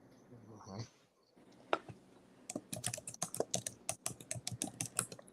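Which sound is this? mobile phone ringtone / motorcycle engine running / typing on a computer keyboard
typing on a computer keyboard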